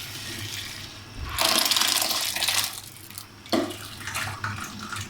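Water from boiled moong dal is drained off, pouring in two strong splashing gushes, the first longer, the second shorter, close by with no talking.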